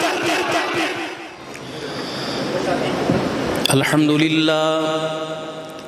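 A large crowd roars a loud collective chant in answer to a Takbeer slogan call at a Seerat-un-Nabi religious gathering, the massed voices swelling and then giving way to a sustained amplified tone from a sound system.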